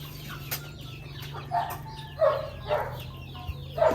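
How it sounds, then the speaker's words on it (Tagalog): Chickens cluck and murmur in short bursts at feeding time over a low background hum, several birds calling close by. "Kaya pakain natin sa mga manok ngayong araw."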